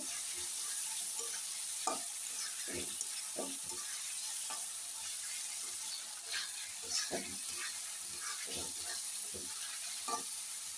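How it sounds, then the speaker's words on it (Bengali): Fish pieces lightly sautéed in spiced masala in a pan give a constant soft sizzle, broken by repeated scraping and stirring clicks of a spoon, close and with no talking. "মাছগুলো দিয়ে হালকা একটু কষিয়ে নেব"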